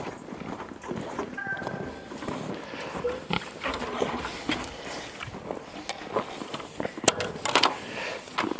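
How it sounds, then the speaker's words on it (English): Pigs grunting and snuffling close by, with scattered footsteps and shuffling in a farm setting, continuous low activity throughout. "The pigs are waiting for us."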